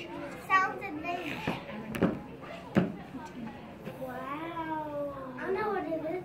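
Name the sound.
cat meowing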